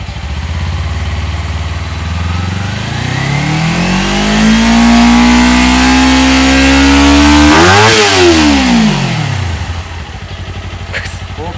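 A Kawasaki Ninja 250 FI motorcycle engine revs hard from idle, its pitch climbing steadily to a loud sustained high rev, then dropping sharply back toward idle, heard up close.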